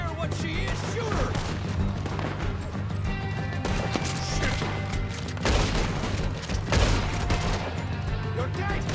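Gunfire crackles through a Red Dead Redemption 2 shootout with O'Driscoll gang members around a barn, a steady clatter of shots and impacts with a few heavier bangs near 6–7 seconds, under a dense game soundscape.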